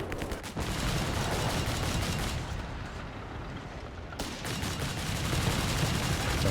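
Flak guns firing in a Company of Heroes 3 battle, a dense continuous roar of rapid overlapping gunfire and booming blasts that briefly thins before surging again, loud and close.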